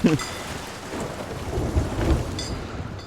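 Steady rain with rolling thunder in the pirate video game Sea of Thieves, heard as a dense continuous wash of noise with low rumbles swelling through it.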